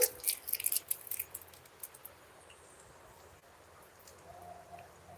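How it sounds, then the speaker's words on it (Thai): Rain falling outdoors in a rural cooking setting, a faint steady patter with a few louder drips and taps near the start, no talking. "ฝนตกนี่นา"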